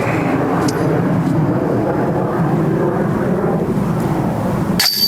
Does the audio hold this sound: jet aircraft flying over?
yes